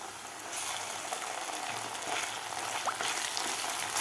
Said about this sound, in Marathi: आता हे वाटणसुद्धा आपल्याला तीन ते चार मिनिट मिडियम गॅसवर व्यवस्थित परतून घ्यायचं आहे